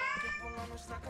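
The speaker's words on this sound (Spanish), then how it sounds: "El gato por ahí maullando." A cat meows close by, a drawn-out tonal call that bends downward, followed by a rougher second cry amid light household background noise.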